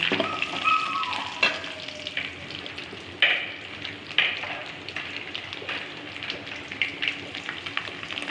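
Garlic and dried vathal sizzle steadily in hot oil in a pan for a Tamil kadugu kuzhambu, with intermittent scraping stirs punctuating the close, continuous frying hiss.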